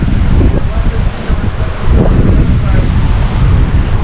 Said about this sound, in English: Over here you have the beach. You know, where you can come and swim.